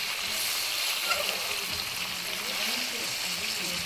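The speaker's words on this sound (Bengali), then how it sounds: "কষে নেবে একটু ভালো করে, একটু কষে নেবে গোশটা।" Meat sautéing in a pan for an Eid home-cooked dish, a steady, close, hissing sizzle that crackles evenly throughout.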